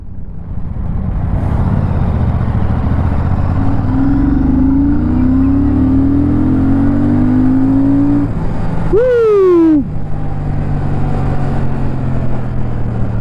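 A car engine climbs steadily in pitch as it pulls hard through first gear. It drops sharply at a shift and then picks up again in second gear. The sound is loud and close throughout, with no talk over it.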